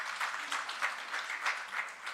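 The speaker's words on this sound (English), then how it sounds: "I'd like you to give them a warm round of applause as they take their seats." Soft, distant applause from a business summit audience in Kisumu as panelists take their seats, with faint rhythmic swells of clapping throughout.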